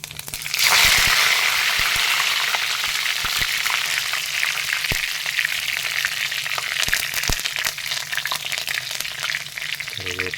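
Curry leaves dropped into hot oil with mustard seeds, bursting into a loud, close sizzle that holds steady, dotted with sharp pops and crackles throughout.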